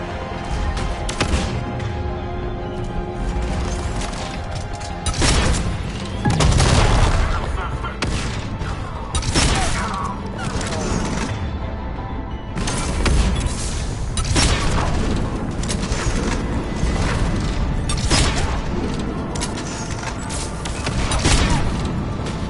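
Heavy booming cannon fire and mechanical clanks fill a Mass Effect 3 battle against an Atlas mech, with repeated loud blasts and gunfire over a long stretch, and voices speaking in between.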